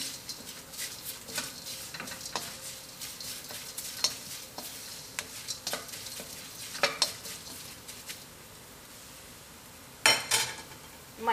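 Coriander and black pepper roast in a pan with a faint crackle. A spoon scrapes and taps at uneven intervals, with a louder clatter near the end. The sound is close but quiet, with no talking.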